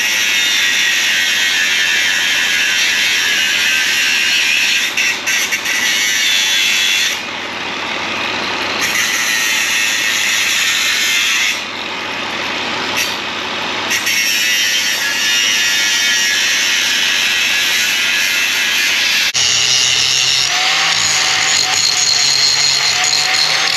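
An angle grinder works a steel bale spear, a loud continuous high whine that drops and recovers as the disc bites into the metal, then shifts pitch near the end, close up with no talking.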